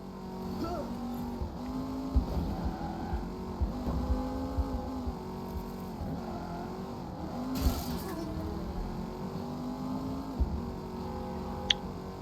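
A car in the LEGO Batman video game drives hard and rams another vehicle, with a revving engine whose pitch swoops up and down and sharp impact thuds scattered throughout, fairly loud and continuous.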